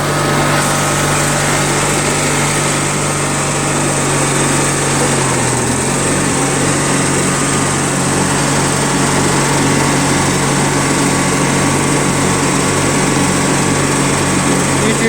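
Craftsman LT1000 lawn tractor, with a rebuilt Briggs opposed-twin engine swapped in, running loud and close. Its steady drone shifts a few seconds in as the PTO engages the mowing blades, and a regular pulsing then rides under the engine noise.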